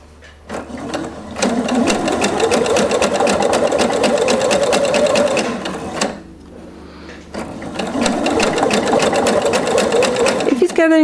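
A sewing machine shirs fabric with elastic thread, stitching in two loud, rapid mechanical runs separated by a brief pause, each a busy whirring chatter close to the microphone.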